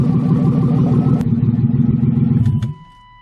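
A newly built car engine with no exhaust fitted idles roughly on its first start with a harsh, unmuffled mechanical clatter, running steadily before cutting off abruptly near the end.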